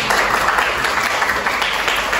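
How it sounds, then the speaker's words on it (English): A classroom audience applauds together, a dense, steady burst of clapping that fills the short moment without any voices over it. "Give applause to your friends."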